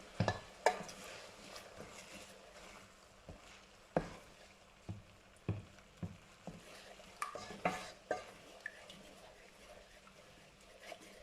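Thai green curry with coconut milk being stirred in a pan, with a series of separate scraping and knocking strokes against the pan over a faint simmering sizzle, close and fairly quiet.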